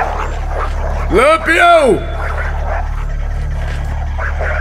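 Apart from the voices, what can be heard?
dog barking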